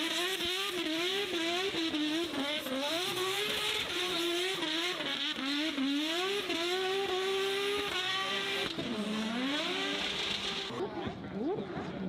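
Toyota Supra A90 drift car at a festival drift demonstration, its engine revving hard in rising and falling sweeps with repeated shifts, loud and continuous before easing off near the end.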